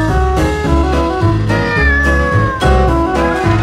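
A cat meows in a repeated, tonal, whining cry, heard alongside loud, rhythmic, bass-heavy music.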